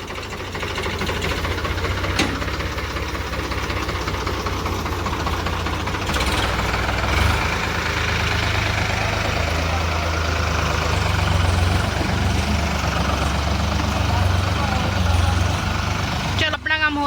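Tractor or farm engine running steadily at idle in an open field being prepared for winter vegetables, a continuous low rumble with faint mechanical rattle, close and unbroken throughout with no talk.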